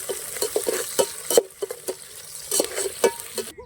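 Garlic and green chillies stirred in a hot pan, a soft frying sizzle punctuated by repeated sharp spoon-on-metal scrapes and knocks in an uneven rhythm, close up with no speech.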